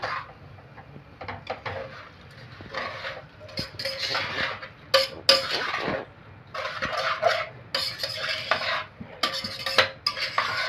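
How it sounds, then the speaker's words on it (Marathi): A spoon scrapes and clatters against a cooking pot while rice and dal are mixed together for dal khichdi, bursts of metallic scraping and clinks in irregular strokes, close up with no talk. "आता आपण ह्याच्यात राईस आणि डाळ मिक्स करतोय। आता हे पूर्ण मिक्स करून घ्यायचं आपल्याला।"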